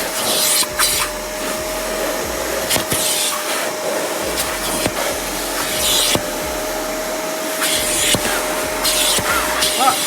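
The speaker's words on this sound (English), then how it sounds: "This is the Rug Doctor in action." A Rug Doctor carpet cleaning machine runs continuously, a loud steady motor whine and suction roar with periodic sharp bursts as it passes over carpet in a car interior.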